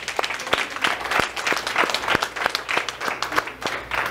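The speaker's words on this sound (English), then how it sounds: "Please clap for that." Applause from an audience at a nurses' town hall, a steady patter of many hands clapping, fairly close and sustained for a few seconds.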